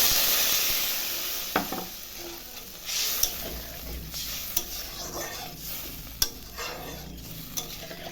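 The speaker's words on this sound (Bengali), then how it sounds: "মশলাটা দিয়ে এখন আলু পটলটা কষাবো কিছুক্ষণ, তারপরে জল দেবো।" Potato and pointed gourd fry in spices in a pan for a fish curry, with a continuous low sizzle broken by sharp scrapes and clinks of a spatula stirring at irregular intervals.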